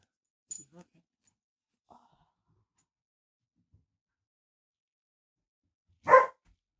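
A single dog bark sounds once, fairly close and brief, near the end of an otherwise quiet indoor stretch with a few faint small knocks before it.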